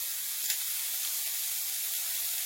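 Onions and shallots sizzle in a hot pan, a steady close frying hiss that fills the whole stretch, with one small crackle near the start and no talking.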